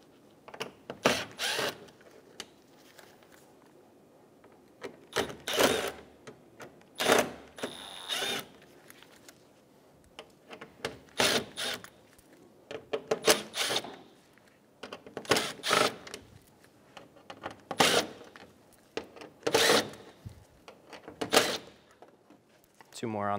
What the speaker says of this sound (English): Using a Phillips head bit, remove all of the screws on the front.